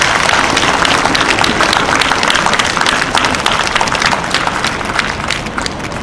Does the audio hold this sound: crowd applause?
yes